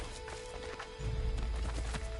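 Horse hooves clopping in Assassin's Creed 3, a few soft beats that grow louder and denser near the end, close by with a steady hum of game ambience behind them.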